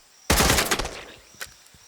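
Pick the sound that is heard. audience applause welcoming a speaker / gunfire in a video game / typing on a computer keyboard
gunfire in a video game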